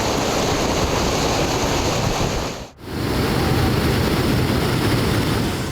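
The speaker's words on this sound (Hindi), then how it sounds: "जहां लगातार हो रही तेज बारिश के बाद भीमलथ महादेव का झरना ओवरफ्लो हो चुका है।" The overflowing Bhimlat Mahadev waterfall in Bundi, Rajasthan, swollen after heavy rain, gives a dense, steady roar of rushing water that fills the whole clip, briefly dipping for a moment midway before returning at full strength.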